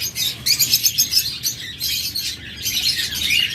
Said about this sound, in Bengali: অসংখ্য পাখি রয়েছে